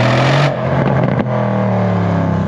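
A Mercedes C63 S AMG coupé with a performance exhaust accelerates hard in race mode. The engine roars up through the revs, cuts briefly at a sharp gear change, then pulls strongly again.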